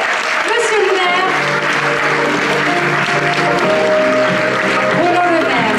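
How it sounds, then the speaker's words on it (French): A theatre audience at the Miss Côte d'Or 2023 pageant applauds steadily as the mayor comes on stage, a dense sustained clapping with a voice speaking over it. "on l'applaudit jusqu'au bout, jusqu'à ce qu'il nous rejoigne sur scène"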